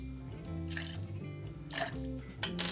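Bourbon poured into a measure for a whiskey sour, a few short liquid splashes and drips over a low background hum, close and fairly quiet.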